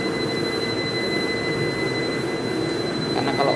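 Shoe washing machine running in a hospital operating room, a steady loud mechanical whir and rumble with high whining tones, continuous throughout with no talk.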